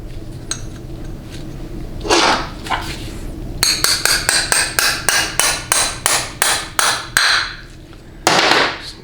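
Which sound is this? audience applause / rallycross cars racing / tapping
tapping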